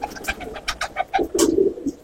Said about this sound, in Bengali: এই পায়রাগুলো দেখা মুশকিল।